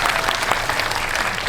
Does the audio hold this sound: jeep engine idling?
no